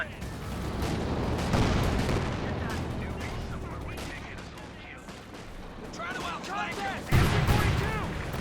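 Machine gun fire from an MG42 in Company of Heroes 2 rattles amid a busy battle mix of gunfire and explosions, with bursts and booms throughout, a heavy blast near the end, and a commentator talking over it.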